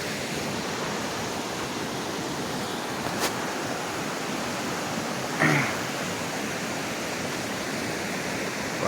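Steady broadband rush of a swollen, fast-flowing river, continuous and fairly loud, with a couple of brief clicks or knocks partway through.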